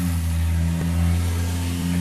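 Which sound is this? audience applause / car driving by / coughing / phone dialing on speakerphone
car driving by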